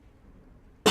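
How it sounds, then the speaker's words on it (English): A single sharp cough bursts out at the very end after near silence, close and loud. "Coughing."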